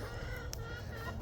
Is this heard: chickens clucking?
yes